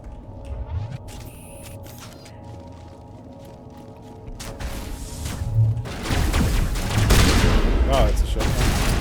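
Shotgun fire in Mass Effect Legendary Edition starts as quiet mechanical game sounds, then turns into loud, repeated blasts and a rumbling fusillade in the second half, with a voice talking at times.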